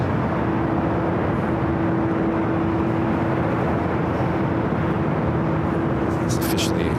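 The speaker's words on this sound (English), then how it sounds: "Also had Condor in the green striped livery, A330 Neo, arriving there on the south side today." A Condor Airbus A330neo in green striped livery, inbound from Frankfurt, arrives on the south side of LAX with a steady, distant jet roar and a low sustained hum.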